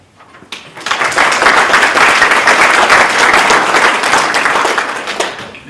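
Audience applause at a DFL gubernatorial candidate forum swells quickly from near silence into loud, dense clapping that holds for several seconds before easing off.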